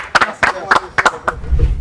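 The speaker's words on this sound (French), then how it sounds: "Il faut assumer. On applaudit." A few people clap in a slow, uneven rhythm at a televised challenge show, about five close, sharp double claps before background noise rises.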